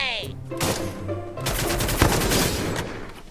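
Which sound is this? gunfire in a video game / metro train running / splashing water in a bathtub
gunfire in a video game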